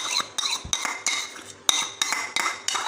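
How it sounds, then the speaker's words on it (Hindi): An egg is added to a kofta mixture in a bowl, with a series of clinking, scraping utensil strikes against the dish about every third of a second. "बाकी आधे में मैं एक और अंडा डालूँगी इसके अंदर"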